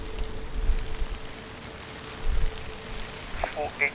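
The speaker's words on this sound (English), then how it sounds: "can you hear the rain?" Rain falls steadily at Lisbon Airport, a soft continuous patter on surfaces with a few low rumbling swells and faint background noise over the four seconds.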